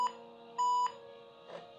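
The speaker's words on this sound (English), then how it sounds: "That's classic IBM 2 beeps" IBM ThinkPad 380D laptop giving POST beeps at startup on the way into BIOS: two short, clear electronic tones with a pause between, the second held longer, then quiet hum.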